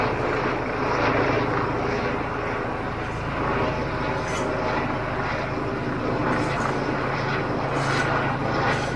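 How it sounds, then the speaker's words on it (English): A helicopter passes above an allotment fruit orchard in Hertfordshire, producing a loud, steady rumbling roar that persists throughout without fading. "I'm sure the moment I stop making this video, this helicopter will also disappear."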